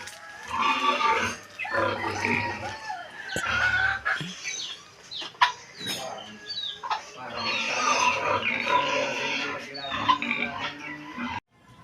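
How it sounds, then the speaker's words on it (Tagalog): Hungry farm pigs grunt and squeal for feed in a steady, noisy chorus, mixed with chickens clucking nearby, loud and continuous throughout. "Nahingi na ng pakain ng mga baboy."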